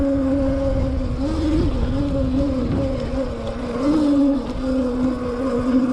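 An electric mid-drive dirt bike, the Qronge X1 Spark, rides off-road, its motor giving a steady whining hum that rises and dips slightly with throttle, close and moderately loud over rough rumbling terrain.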